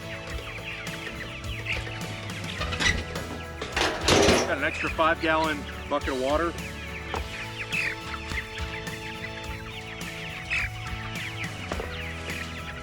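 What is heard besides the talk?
chickens clucking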